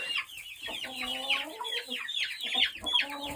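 Several young chickens, including a rooster, cluck and chatter continuously at close range in a coop, overlapping calls in quick irregular bursts.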